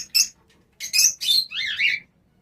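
Adult breeding-pair lovebirds of a local home-bred Udaipur stock chirp in a series of sharp, close, bright calls, several short bursts followed by a warbling trill, with no talking.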